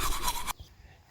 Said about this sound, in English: then he brushes it in with a toothbrush